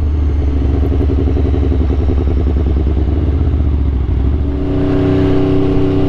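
An Aprilia RSV4 sport motorcycle engine roars loudly and close, a dense throbbing drone holding steady, then shifting into a smoother, higher pitched note about two-thirds of the way through.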